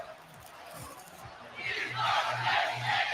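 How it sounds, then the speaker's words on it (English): Stadium crowd in the EA Sports College Football video game chanting We Are Penn State, a distant roaring chant rising in the second half, with a low rhythmic drum-like pulse underneath. "You can hear the We Are Penn State yeah, chant."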